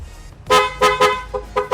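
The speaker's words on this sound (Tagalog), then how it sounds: "Pia horn na original din pala yan" A PIAA horn fitted to a Yamaha NMAX V2 scooter blares in a string of short, loud honks, close by, with brief gaps between each blast.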